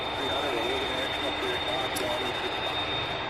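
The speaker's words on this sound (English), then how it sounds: "There is that American flight coming into the picture now" An American Airlines passenger jet taxiing at Louisville's SDF airport, heard as a steady, broad engine roar from a distance, constant throughout, with a faint high whine above it.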